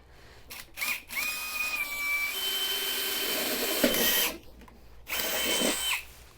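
A power drill bores holes into a garden planter resting on a towel, running in a few steady whining bursts with short pauses between them, close and loud, with no talking.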